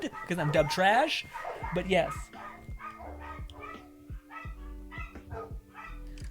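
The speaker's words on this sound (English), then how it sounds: "Dogs are just having a great time. They're just, someone's at their house." Several dogs bark and yip excitedly at a house, loud and close in repeated bursts, with a voice talking over and between the barks.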